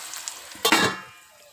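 Onion stalks cook in a pan, giving a soft background sizzle broken by a short burst of louder frying and stirring midway that fades back to quiet.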